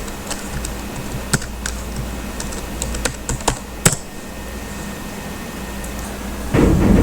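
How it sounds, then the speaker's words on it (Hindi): Password typed on a computer keyboard at an email login screen, a run of sharp separate keystroke clicks at uneven pace, close and clear with no talk, ending in a louder low rumble. "उसके बाद हम यहाँ पासवर्ड डालेंगे"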